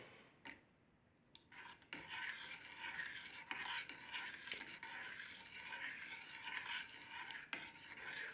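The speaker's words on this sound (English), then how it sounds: "Give it a stir." Chipotle black bean sauce, seasoned with salt and black pepper, gets stirred in a pot, giving a steady, soft scraping and rubbing texture that runs almost without pause after a brief quiet start.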